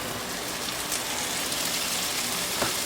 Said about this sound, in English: Turn off the burner and go to the sink and drain them.